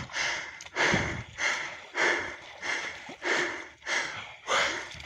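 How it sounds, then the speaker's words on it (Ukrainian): Someone breathes heavily and rhythmically, with seven or eight loud, close, labored breaths at a steady pace and no speech between them. "чому він так важко дихає?"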